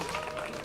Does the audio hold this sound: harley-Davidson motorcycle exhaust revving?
no